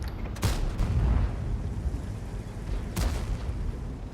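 A tank cannon fires in World of Tanks, two heavy booming shots about two and a half seconds apart over a constant deep engine rumble, both loud and close.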